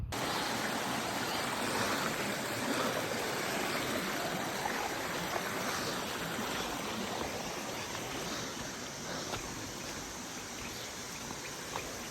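A rushing stream and waterfall in Puerto Rico, a dense, steady broadband roar of flowing water heard close and continuous for the whole stretch, with no voices.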